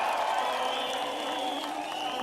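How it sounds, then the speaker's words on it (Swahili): A large outdoor crowd at a political rally in Tharaka Nithi, Kenya, applauding and cheering for the deputy president, a steady dense roar of clapping and voices that stays level throughout. "wapi makofi ya deputy president wa Republic of Kenya?"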